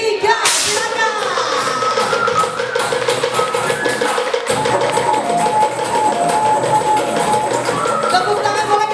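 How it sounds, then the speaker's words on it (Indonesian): Many wooden kentongan slit drums struck together by a crowd at a World AIDS Day campaign event in Pangandaran, a loud, dense, continuous clatter of overlapping knocks lasting throughout with no pause. "Pak dan Ibu berkenan untuk memukul kentongan secara bersama-sama"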